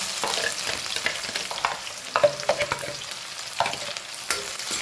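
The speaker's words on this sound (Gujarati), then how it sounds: "સરસ મજાનું સોતે કરી લઈએ" Onion sizzles in hot oil with cumin, bay leaf and red chilli, stirred with scraping spatula strokes over a constant frying hiss, close and fairly quiet with no talking.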